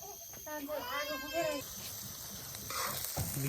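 Local chicken meat hitting a hot kadai at an outdoor family picnic, a steady sizzle and crackle of frying close by, with a voice chattering over it and a brief clatter near the end.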